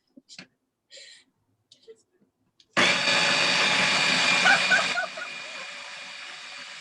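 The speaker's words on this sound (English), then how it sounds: "Yeah, I'm just blending the onion." An electric blender whirs loudly as it blends onion, starting abruptly after a few quiet clicks and handling sounds, then settling into a slightly lower, steadier drone.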